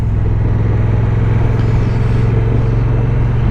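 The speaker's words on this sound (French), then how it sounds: "Le bruit du moteur est assez étonnant, ça fait vraiment comme s'il y avait plein de petits pout pout" A steady, loud motorcycle engine droning continuously at close range under acceleration, with a low rumbling throb and no voices.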